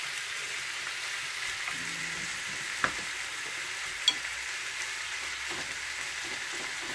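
Chicken teriyaki sizzles and fries in a pan, a steady soft hiss with occasional faint clinks of stirring, close and quiet with no talking.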